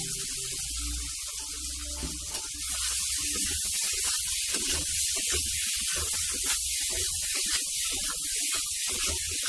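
Fried potatoes drop into hot, well-cooked spice masala for a potol dish and sizzle loudly, a dense, continuous frying hiss with crackling pops close up that grows slightly stronger after the first few seconds.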